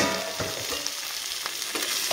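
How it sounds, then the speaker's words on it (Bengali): Eggplant pieces fry in oil in a pan for a vegetarian dish, a dense continuous close sizzle with soft rhythmic stirring and turning sounds throughout. "এপাশ ওপাশ করে সুন্দর করে ভাজা করে নেব"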